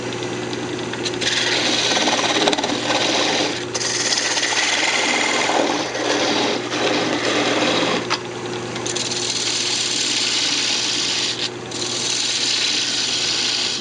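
A wood lathe spins a bandsaw box as a tenon is turned, giving a steady loud whirring scrape with tool-on-wood rubbing that rises and dips in brief pauses throughout, no voices.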